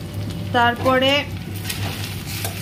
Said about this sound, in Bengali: আর এই যে একদিকে পনির ভাজছি, হালকা করে ভেজে নেব।